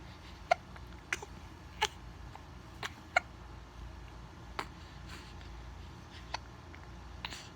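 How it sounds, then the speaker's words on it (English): A young child hiccups repeatedly, about ten sharp, brief hiccups spaced roughly every half to one second, close and clear over a quiet indoor background. "I got hiccups."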